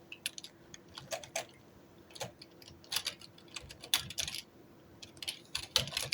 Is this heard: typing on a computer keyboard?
yes